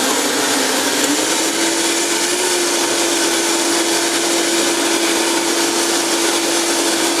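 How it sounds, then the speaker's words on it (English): A Vitamix blender runs steadily while blending almond pancake batter, making a loud, constant motor whir with an unchanging hum and no break or voices. "The Vitamix is a great investment."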